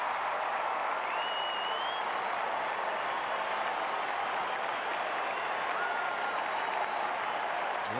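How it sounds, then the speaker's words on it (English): A large Fenway Park baseball crowd cheers and applauds in a steady, dense roar that holds for the whole stretch, broad and evenly loud without pause. "this Fenway crowd has had so much to cheer about over the last 2 nights. They're back up again"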